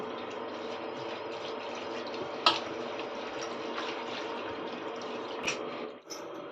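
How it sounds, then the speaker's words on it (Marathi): Fenugreek leaves are washed in water at a kitchen sink or tap, with steady running and splashing water throughout and a couple of brief knocks near the end. "अशी भाजी आम्ही साफ करून घेतली आता धुवून घेतोय"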